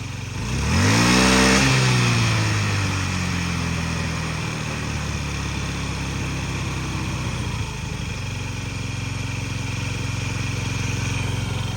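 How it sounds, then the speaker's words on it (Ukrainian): A Honda Dio AF 57 scooter engine revs briefly near the start, then settles into a steady, fairly fast idle that runs on close and loud without any voices. "по двигунчику тихенько нормально працює, але трошки бажано б холостий, щоб менший був"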